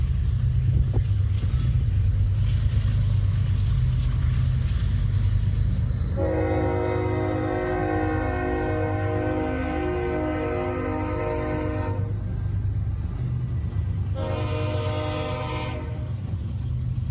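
A CSX train's GE locomotive horn sounds over a constant low engine rumble, one long chord-like blast followed after a pause by a shorter second blast, strong and fairly near.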